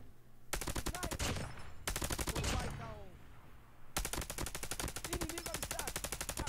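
A gold Dingo light machine gun in a shooter video game fires in three rapid, crackling bursts with brief gaps between them, loud and close.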